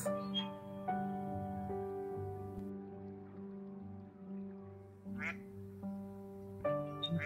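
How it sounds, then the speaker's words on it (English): A duck quacks three times, short nasal calls spaced out over a steady musical backing, the last pair coming close together near the end. "duck"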